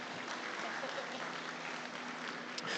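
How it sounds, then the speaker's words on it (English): Steady applause from a crowd at an FFA market hog show at the Nebraska State Fair, continuous dense clapping throughout, moderately distant. "Let's give all these kids here in Division 2 a big round of applause"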